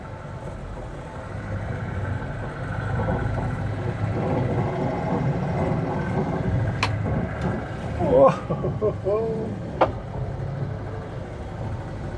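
A Lada Niva's engine running with a low steady rumble, accompanied by a few clunks and odd noises near the end; a person briefly exclaims.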